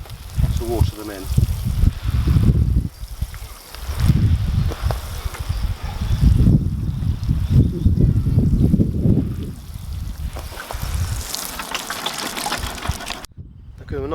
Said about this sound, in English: Give them a nice deep watering.